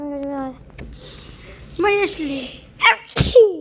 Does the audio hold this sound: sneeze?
yes